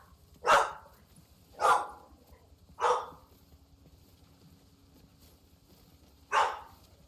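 A companion puppy in the video game No Man's Sky barks four times, three evenly spaced yips early on, then a pause before a final bark, clear against a quiet background hum.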